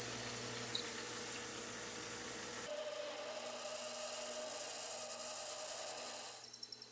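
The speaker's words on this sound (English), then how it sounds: "even just drilling a hole this deep is fairly difficult for my equipment" A deep hole is drilled through a long cylinder barrel for a large steam engine, making a steady grinding, rasping machine whir that shifts in tone partway through, then winds down into a few faint clicks.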